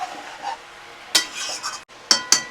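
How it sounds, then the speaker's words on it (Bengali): Chicken pieces and onions being stirred in a cooking pan, a few loud scraping, clinking strokes of a utensil against metal over a low background, with gaps between the stirs. "একবার নেড়ে দিই ভালো করে।"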